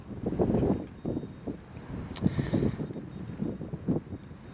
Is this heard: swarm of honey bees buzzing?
no